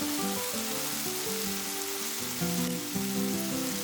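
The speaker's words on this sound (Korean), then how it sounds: "자글자글 졸여줍니다" Tofu simmers and reduces in seasoned sauce in a pan, giving a steady, close, dense sizzle and bubbling that runs without pause and has no voices over it.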